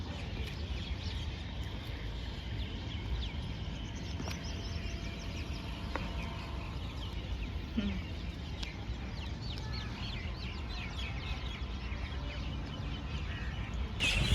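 Many birds at a park lake in Dubai make a dense, steady chorus of chirps and calls, moderately distant and continuous over a low background hum, with no talking.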